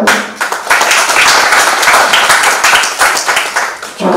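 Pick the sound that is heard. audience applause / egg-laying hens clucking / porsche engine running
audience applause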